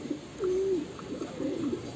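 A caged pet bird gives two soft, close coos, each a low drawn-out note, against faint background hiss.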